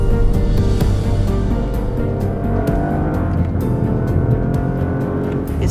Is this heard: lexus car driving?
yes